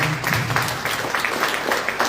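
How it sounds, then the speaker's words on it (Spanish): Applause for Margarita at a Guarani language and culture gathering with book presentations, a moderate, continuous patter of clapping from a small audience, with some murmured voices underneath. "un aplauso para Margarita"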